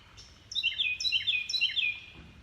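A loud bird calls nearby in a rapid series of repeated high, bright chirping phrases lasting about a second and a half, clear against quiet background hum.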